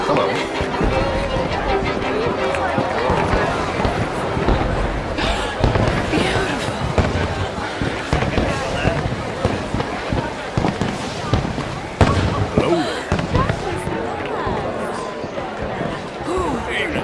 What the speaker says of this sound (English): Let me enjoy the fireworks.